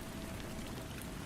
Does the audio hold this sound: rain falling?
yes